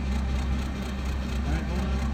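The engine of a 1947 GMC EC303 truck cranks over on the starter, a loud steady churning drone with faint rhythmic pulses from the turning motor, close and continuous without firing.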